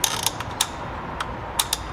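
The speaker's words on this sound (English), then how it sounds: "I'm turning the dial, but I'm staying away from the section that says it's the serger side" Plastic stitch selector dial being turned on a New Home Combi DX 502 sewing-serger machine, giving sharp ratcheting clicks spaced irregularly over steady background hiss, close and fairly loud.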